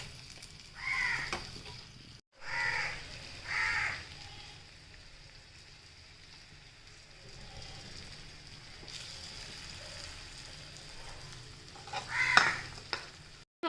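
Prawns being sautéed with coriander leaves and curry leaves in a pan: a steady sizzle with bursts of scraping stirring at the start and near the end, fairly close and without any talk.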